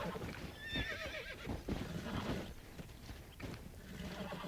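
A horse whinnies and neighs repeatedly while being broken in Red Dead Redemption, with clip-clop hooves and stamping under the calls, loud and close, amid game ambience.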